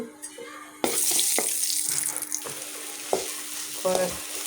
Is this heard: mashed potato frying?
yes